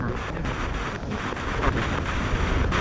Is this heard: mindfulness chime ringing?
no